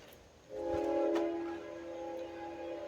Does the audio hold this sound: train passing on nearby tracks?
yes